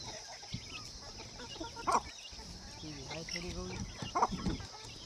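Free-range village hens on a farm cluck in short, uneven bursts at moderate distance, over a steady background hum, with a person talking nearby.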